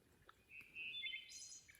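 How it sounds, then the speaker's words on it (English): A wild bird in the wilderness along back roads gives a single rising, robotic-sounding chirping trill, fairly faint against quiet background hiss. "that bird is talking to probably 10 other birds."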